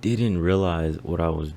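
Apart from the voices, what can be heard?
No everyday noise stands out behind the speech.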